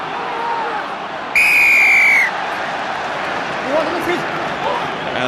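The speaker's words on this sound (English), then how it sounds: "after the whistle had gone right in front of the referee" A referee's whistle at a 2006 Munster vs Leinster rugby match gives one loud, sustained blast lasting about a second over the steady murmur of a large stadium crowd.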